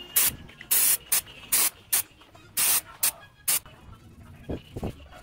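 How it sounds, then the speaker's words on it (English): A carb cleaner aerosol can sprays onto a Mitsubishi 4D56 diesel engine's throttle body in a series of short, sharp hissing bursts, about ten in all, with brief pauses between them. "Spray the carb cleaner evenly on the surface of the throttle body."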